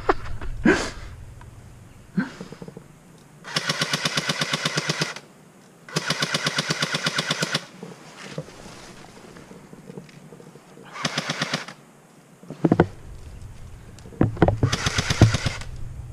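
Airsoft guns fire BBs in rapid, rattling full-auto bursts during a small outdoor skirmish, with several loud, sustained strings of shots separated by pauses and a few single pops.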